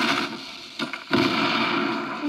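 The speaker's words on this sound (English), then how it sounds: "Gonna die by the grenade." A grenade blast in a shooter video game against bots, with a sharp burst of broadband noise midway followed by a sustained rumbling roar, loud and fairly close.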